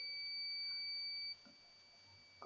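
A steady high-pitched electronic beep from a multimeter continuity test on a Dell Inspiron 1545 laptop board sounds for over a second, then cuts off, leaving faint background noise.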